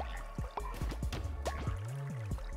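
Cartoonish watering of crops in the video game Cult of the Lamb, a string of bubbly drip and squish effects over a steady game music bed, close and fairly loud with no talk.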